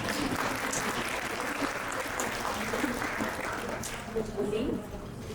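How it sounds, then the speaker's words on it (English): Audience at a women's empowerment conference in Edmonton clapping, a moderate, continuous applause heard mid-distance with voices mixed in, easing off near the end. "So let's give a hand of applause for Jennifer Rice."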